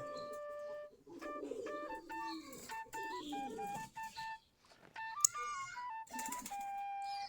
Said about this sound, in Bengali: আমাদের দেশি গিরিবাজ কবুতর